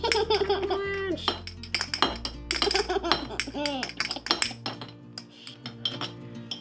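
Salt poured and scooped into a mixing bowl for a homemade seasoning blend, a close granular rush with clinks of a scoop against the bowl, a few sharper taps, and a voice in the background.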